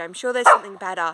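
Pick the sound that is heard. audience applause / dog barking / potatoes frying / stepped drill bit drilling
dog barking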